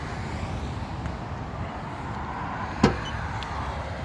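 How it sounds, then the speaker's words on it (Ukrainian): Steady broadband traffic rumble from cars passing on a nearby road, heard beside a 2021 Renault Master 3 2.3 dCi van, continuous throughout with one brief sharp click near the end. "шум тому що їздять автомобілі попри дорогу"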